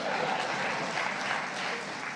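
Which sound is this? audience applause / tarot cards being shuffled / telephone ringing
audience applause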